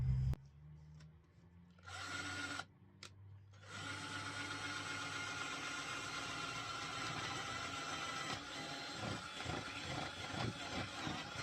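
A power drill whirs steadily and close by after a few brief starts, running continuously with a rough grinding edge as it bores a hole through a wooden table.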